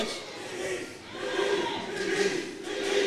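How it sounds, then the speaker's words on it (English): A live pro wrestling crowd roars and shouts during a four-man tag match, a dense, moderately distant wall of cheering that swells and dips without clear individual voices. "And the crowd is in a frenzy."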